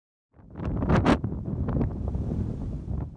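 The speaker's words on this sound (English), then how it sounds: "The wind certainly got up while we were there." Strong wind buffets the microphone outdoors along the North Wales coast, loud gusting rumbles that surge and roar after a moment of silence, then hold at a rough, uneven level.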